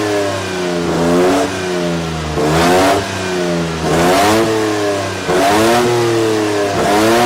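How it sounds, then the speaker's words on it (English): A loud FSO Polonez 2500 Racing rally car engine fires up and revs repeatedly, the pitch climbing and falling in several sharp bursts close by. "the FSO Polonez 2500 Racing was started for the first time"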